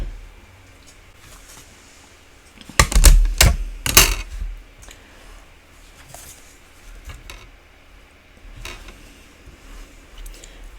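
A small die-cutting machine cranks through paper to cut out a tiny shop and shrub, giving a burst of close, loud mechanical clicks and ratcheting for about a second and a half, then quieter scattered ticks.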